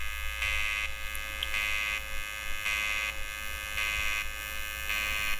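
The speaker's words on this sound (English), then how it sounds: "once you get the arc initiated, it goes pretty smooth, and the machine just kind of hums along pretty" A Stahlwerk WT242P AC/DC TIG welder hums steadily while welding, a constant electrical buzz with a brighter tone pulsing on and off at a regular rhythm, about once per second, close and moderately loud.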